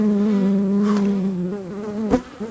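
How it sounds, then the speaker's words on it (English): Honey bees buzzing around a beehive during hive work, a dense steady drone very close to the microphone, with one bee passing louder near the end. "I'm sure all you're hearing is buzzy while I'm doing all this recording"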